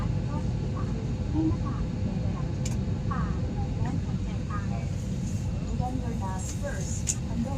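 Steady, broad airliner cabin drone in flight, constant and moderately loud, with people talking intermittently over it.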